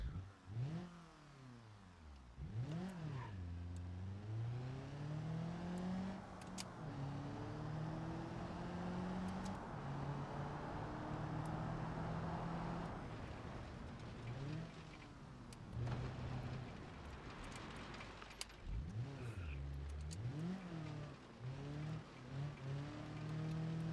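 A four-wheel-drive rally car engine in the video game BeamNG revs up and down repeatedly, climbing in pitch through gears and dropping back, a steady synthetic-sounding roar with occasional sharp spikes.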